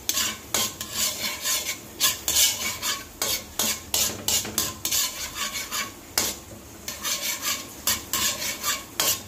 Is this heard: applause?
no